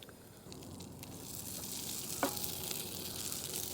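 Butter sizzling in a warmed pan over a camp stove, a steady soft crackle and hiss that grows slightly louder after the first half second, close to the mic, with one brief sharper pop.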